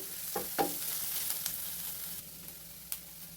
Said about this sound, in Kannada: ಈಗ ಈ ಥರ ಈರುಳ್ಳಿ ಎಲ್ಲ ಫ್ರೈ ಆಗಬೇಕು ಆಯಿಲಲ್ಲಿ ನೀಟಾಗಿ ಗೋಲ್ಡನ್ ಕಲರ್ ಬರೋವರೆಗೂ ಈ ಥರ ಕೈಯಾಡಿಸ್ಕೊಳ್ಳೋಣ